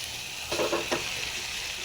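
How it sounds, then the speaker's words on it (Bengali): Jackfruit and potatoes sautéed in a spice paste, with a steady sizzle and a short burst of stirring scrapes near the middle. "এবার আমি এর সাথে এঁচোড়টা আর আলুটা অ্যাড করে"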